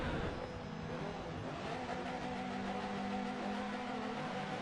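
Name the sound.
touring cars revving engines on starting grid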